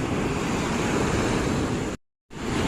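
Rough sea waves break on the shore in a steady, loud roar of surf with wind noise, cutting out briefly near the end before resuming.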